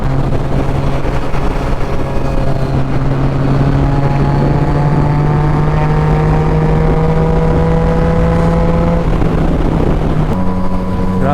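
Aprilia RSV4 Factory superbike engine at a breakfast meet of superbikes and supercars, a loud, sustained droning note holding steady and shifting pitch slightly near the end, with no talking over it.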